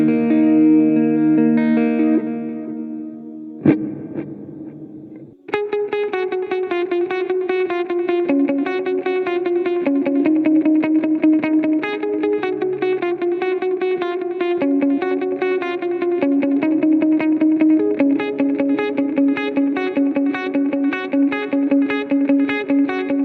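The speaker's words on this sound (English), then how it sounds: "Number 5, super reverb," A clean electric guitar tone from a Nux Mighty Lite BT II modelling amp's Super Reverb model rings out, a few sustained chords, a brief pause, then a steady run of bright picked notes with light reverb.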